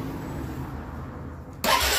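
A 2025 Suzuki Burgman 400 scooter engine cranks and fires near the end after a quiet outdoor stretch, starting abruptly with a burst of loud, broadband engine noise up close, with no talking.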